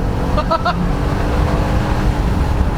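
A BMW X5 with a 4.4 V8 engine accelerating off-road, a loud, close engine rumble that holds steady throughout, with a brief chirp-like sound near the start.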